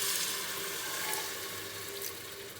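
Water poured from a cup into biryani masala in a cooking pan, a steady close rushing pour with a faint sizzle running the whole time, no voices.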